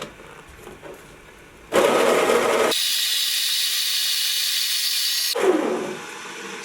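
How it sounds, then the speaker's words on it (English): A coffee grinder on a medium setting grinds coffee beans for pour-over brewing, starting with a loud coarse whir, then shifting to a steady high, hissing drone before a rougher final burst, close and loud with no talk. "Then use a medium setting on the grinder."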